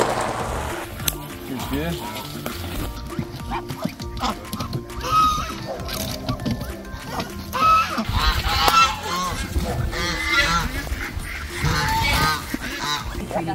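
Ducks unloaded from a crate into an enclosed duck area honk and quack repeatedly at close range, their calls mixed with rustling and handling noise, and a person talks intermittently over them.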